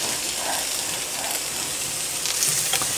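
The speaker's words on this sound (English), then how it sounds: "Now I'm going to add the tofu back to the eggplant in the pan." Tofu and eggplant sizzle in a frying pan in a home kitchen, a steady bright crackle and hiss running throughout, with a few soft stirring scrapes near the end and no voices.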